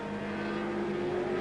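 Lotus Ford race car driven by Jim Clark at the 1968 Warwick Farm International 100, a Tasman Cup race, giving a steady, loud engine drone that holds throughout without a break.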